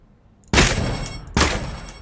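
Two sharp gunshot blasts from target shooting in Gunsmith Simulator, each a loud sudden crack with a lingering tail, spaced under a second apart after a quiet start.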